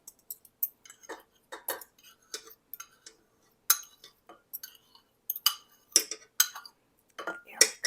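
A whisk or spoon works egg yolks into a cup of sugar in a bowl, producing bright, rapid metallic clinks and taps in irregular bursts, close and fairly crisp with no talking over it.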